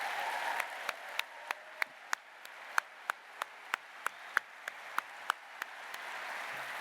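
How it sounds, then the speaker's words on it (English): Sparse audience clapping at an evening poetry reading, marking thanks to the sign language interpreters: a handful of individual claps land at a slow, irregular rhythm over a soft wash of applause in the room. "Can we have a round of applause for our sign language interpreters tonight?"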